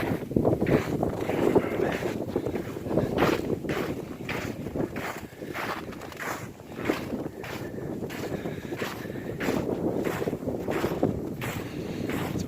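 Wind gusts across an open field in the Hudson Valley after a winter storm, a steady loud rushing with buffeting bursts against the microphone throughout, no voices.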